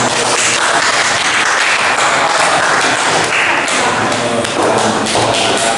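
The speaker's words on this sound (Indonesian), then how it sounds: "Tepat sekali tepuk tangan." Applause in a classroom during a lecture lesson, loud and close, a dense burst of many hands clapping that fills the whole stretch without pause.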